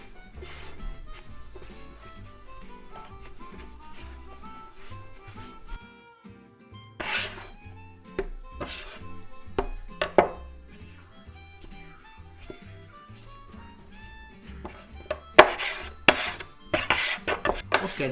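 Soft ciabatta bread dough being mixed by hand in a bowl, heard as irregular wet slaps, scrapes and knocks against the bowl. Intermittent clunks come close to the microphone with no talk.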